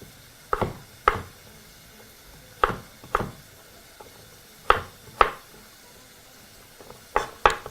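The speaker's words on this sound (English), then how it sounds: "finish off by finishing those into some very thin julienne pieces" Knife strokes julienning vegetables on a cutting board in spaced pairs, sharp close thuds with short pauses between each pair, no talking.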